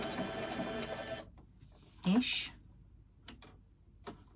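A sewing machine stitches fabric for a small key fob in a quick, rapid run that stops after about a second, followed by a few isolated mechanical clicks and a brief voice.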